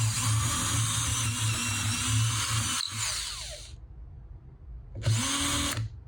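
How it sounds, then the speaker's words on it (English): Power drill boring four holes for flathead machine screws to mount casters, the motor whining steadily for a few seconds, stopping abruptly, then a second short burst; close and loud with no talk. "So I'm going to drill my 4 holes."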